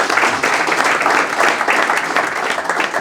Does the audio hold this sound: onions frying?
no